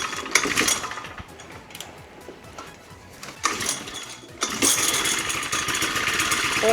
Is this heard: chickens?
no